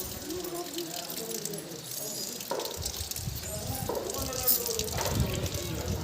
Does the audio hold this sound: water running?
yes